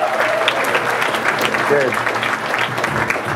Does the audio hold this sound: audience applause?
yes